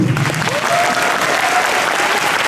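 Dense, steady applause fills a Black Combat 6 MMA cage after the fight, close and loud for the whole stretch with no break in the clapping.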